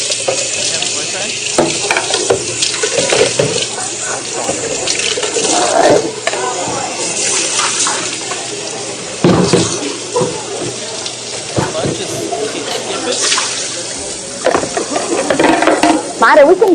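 Tap water running for a quick rinse, a steady broadband splash and hiss continuing for many seconds with clatters and handling noises, and people talking faintly in the background.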